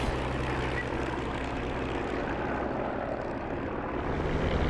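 A P-47 fighter's piston engine roars steadily at full power as it speeds down the runway on takeoff, a loud, unbroken propeller drone throughout.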